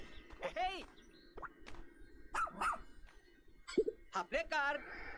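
A rescue pup dog in the Pikmin 4 video game yaps and barks in short, bright bursts scattered among game sound effects and clinks, fairly quiet overall.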